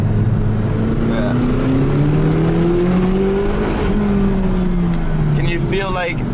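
A McLaren 570GT engine drones steadily on a hot, smooth volcano road, its pitch slowly rising and falling as it pulls, under continuous conversation inside the car.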